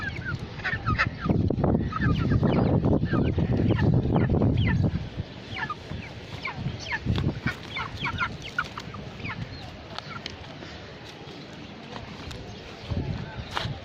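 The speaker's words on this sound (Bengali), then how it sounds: "মুরগি এখানে" A crowd of poultry clucks and squawks nearby, loud at first and then thinning out, with people talking among the birds.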